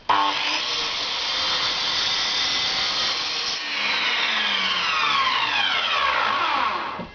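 A power saw slices a 7 mm deep slot into a wooden board for a bed, a loud, continuous whining cut held close up throughout, with no speech over it.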